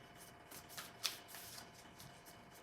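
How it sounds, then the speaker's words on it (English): A deck of cards being shuffled by hand during a reading, soft riffling flutters with one sharper snap near the middle, close and quiet, no voices. "Would you like me to shuffle again?"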